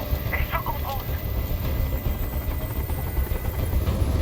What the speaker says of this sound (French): Je peux plus supporter ce bruit. Fais dégager cet hélicoptère,